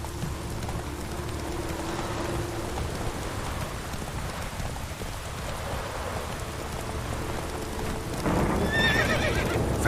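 A horse in The Witcher 3: Wild Hunt video game trots with steady clip-clopping hooves under a constant rain-like wash, then lets out a loud, close whinny near the end.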